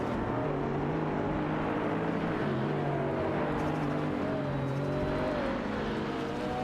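A Ferrari F50 and an Audi V8 race close together in a racing video game, their engines roaring loudly as pitch climbs and falls through gear changes, with no talking.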